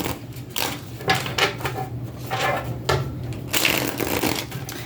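Tarot cards are shuffled repeatedly up close, crisp riffling bursts in an irregular rhythm, with soft rustles between them.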